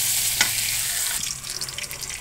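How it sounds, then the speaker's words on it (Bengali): Chopped onions sizzle in hot oil in a pan, a steady bright hiss with a couple of brief scraping stirs, close and alone without voices. "দেখো আমাদের পেঁয়াজ ভাজা হয়ে গেছে"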